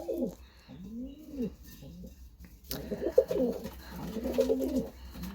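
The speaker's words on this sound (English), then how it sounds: "You silly birds." Pigeons coo inside a loft, low throaty rolling calls repeating close by, with soft rustles and wing flutters mixed in.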